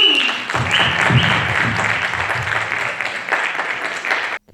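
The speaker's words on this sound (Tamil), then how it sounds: "ஒரு பெரிய கைத்தட்டல் வச்சு வரவேற்கலாமா?" Applause from the audience at a Tamil community Chithirai festival welcomes children coming on stage, a dense clapping wash running steadily and loud before cutting off sharply at the end, with some crowd noise mixed in.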